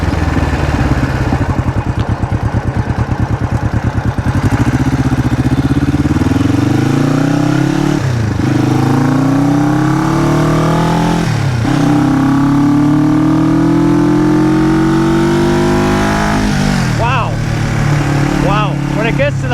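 Black Bomber motorcycle engine revving hard through the gears, pitch climbing steadily, dropping at each shift and rising again to high revs, loud and close throughout, with a voice talking over it.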